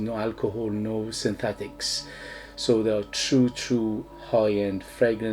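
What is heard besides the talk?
No everyday noises stand out.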